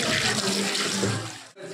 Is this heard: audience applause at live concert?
no